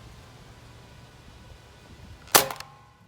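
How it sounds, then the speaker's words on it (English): A toy Nerf gun fires one sharp, close snap near the end, standing out from a quiet room with faint background hum. "This is why you always need a mask when you're shooting Nerf"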